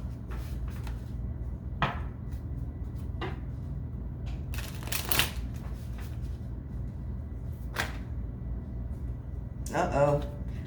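Tarot cards being shuffled in bursts of riffling and slapping between pauses, close and fairly quiet, with a low steady background hum.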